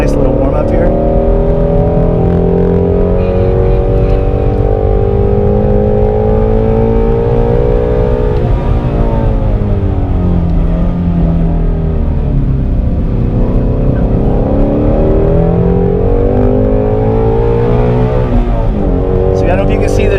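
A 2016 Shelby GT350R Mustang on a warm-up lap at Grattan Raceway, its engine droning loud and close inside the cabin, revving up and down through gear changes, with someone talking over it.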